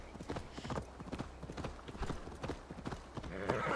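Horse hooves clip-clopping in a steady walking rhythm in the Viking-era video game Assassin's Creed Valhalla, faint and close-miked, each strike a short distinct knock.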